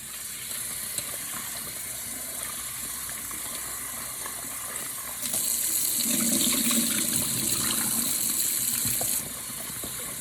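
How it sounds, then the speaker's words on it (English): Cut potatoes being rinsed under a running tap, a steady stream of water that swells louder and splashier midway as the potatoes are moved about, then eases back. "We're gonna give them a quick little rinse."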